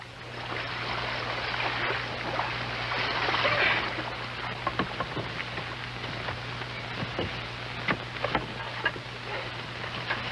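A canoe paddled along on open water gives a steady wash of rushing, splashing water with scattered soft paddle strokes, fairly quiet and continuous, with no voices.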